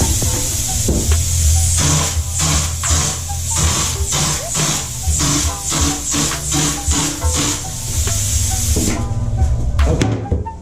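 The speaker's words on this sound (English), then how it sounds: "I want to spray a little bit more right here so I can use that as my test area." Repeated short bursts of spray hiss in quick succession in a bathroom being remodeled, close by, each a sharp airy spurt, with brief pauses and some faint knocking between them.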